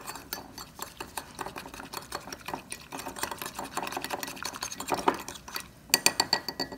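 A spoon stirs a mixture of yeast, sugar and a little water in a small bowl, rapid clinking scrapes against the vessel in a steady, busy rhythm, close and fairly quiet, with a brief pause before a final few taps.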